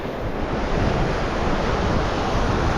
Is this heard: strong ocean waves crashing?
yes